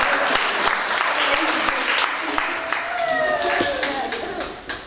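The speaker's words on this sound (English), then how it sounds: "Can we clap for the demonstrators?" A church congregation claps in a dense, steady round of applause lasting the whole stretch, loud and close, with some voices and a faint tone mixed in underneath.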